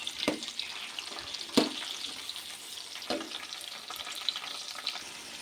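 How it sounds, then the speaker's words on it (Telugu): Tomatoes fry in a pan for gongura pachadi: a steady broadband sizzle with a few sharp stirring clacks at a regular pace, close and alone with no talk. "ఇప్పుడు టమాటాస్ తీసుకొని వాటిని కూడా కొంచెం వేయించుకుందాం"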